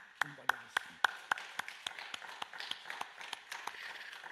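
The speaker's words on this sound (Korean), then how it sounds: "박수로 하나님께 영광드리겠습니다" A church congregation at an early-morning service claps together in a steady, even beat of about fifteen claps, faint and somewhat distant, with a brief tonal ring at the start.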